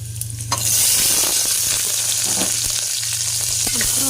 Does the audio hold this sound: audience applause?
no